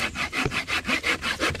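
A hand saw cuts through very hard wood with steady back-and-forth strokes, about seven even rasping passes in quick succession, close and loud with no talking.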